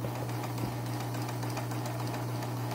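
A Singer Imperial sewing machine runs at a normal, even speed, its motor humming steadily beneath a quick, regular mechanical ticking, heard up close but fairly quiet.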